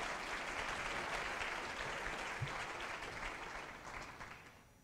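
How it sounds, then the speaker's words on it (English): An audience at an economic forum applauds in a sustained wash of clapping that holds steady, then gradually fades away. "Give that a round of applause"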